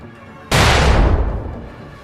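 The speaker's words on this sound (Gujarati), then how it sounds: "બહુ મોટો ધમાકો" A single huge blast erupts suddenly, loud and booming, then rumbles and slowly fades; it stands for the bomb explosion at Rajiv Gandhi's rally, a few steps from the stage.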